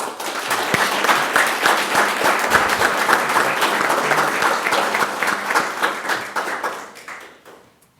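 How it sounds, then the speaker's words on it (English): A county board meeting audience applauds with many distinct claps, lively and steady for several seconds before gradually tapering off to silence. "Please give these folks a round of applause."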